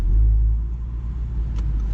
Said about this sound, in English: just around town with those exhaust valves opened in sport mode, in dynamic mode, it just sounds so good